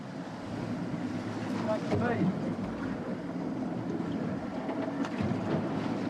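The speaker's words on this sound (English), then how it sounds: "Some really big waves building out here now" Wind and rough sea around a boat in a building five-metre ocean swell, a steady loud wash of water and gusting wind noise throughout, with a brief splash-like burst near the middle.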